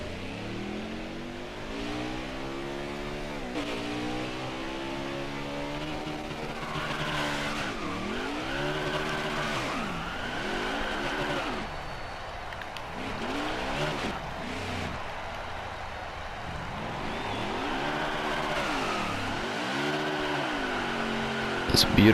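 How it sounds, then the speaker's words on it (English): A NASCAR stock car doing a victory burnout at Darlington in the NASCAR Heat 4 video game: sustained engine revving with rising and falling pitch sweeps over continuous tire squeal, with a voice talking over it. "See if we can do a nice victory burnout here."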